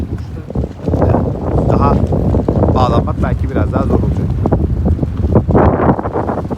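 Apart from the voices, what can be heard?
strong wind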